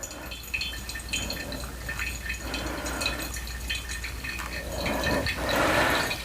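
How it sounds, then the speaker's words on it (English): Hot water pours over Rwandan coffee grounds in a V60 pour-over in a continuous splashing trickle that ebbs and surges slightly, growing fuller and louder toward the end. "So I'm just going out, just wetting the coffee, and I go right to the middle and make little circles till I get to 150."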